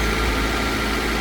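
Car engine idling steadily just after starting, a loud continuous low rumble and vibration close by with no break or change in pitch.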